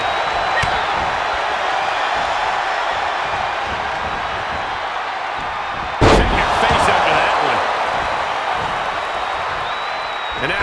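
Wrestling strikes and slams in WWE 2K23 land as a dull impact amid constant arena crowd noise, with a single heavy slam standing out midway over a steady roar.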